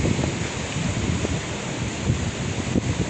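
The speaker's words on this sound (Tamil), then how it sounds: "எவ்வளோ வேகமாக தண்ணி போகுது பாருங்கள்" Fast-flowing floodwater rushes through flooded Colombo streets in Sri Lanka, making a loud, continuous broadband roar with wind buffeting the microphone.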